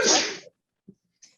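A single loud, close sneeze bursts out sharply and fades within half a second, followed by a couple of faint soft noises in an otherwise quiet room.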